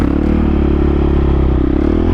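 Dirt bike engine held in a coaster wheelie, a steady loud idle-like drone with low rumble and mechanical clatter running throughout, close and without speech.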